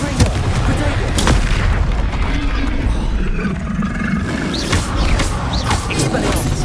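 Booming blasting-spell explosions and rumbling impacts fill a Hogwarts Legacy fight, loud and dense, layered over constant game noise and a roaring backdrop.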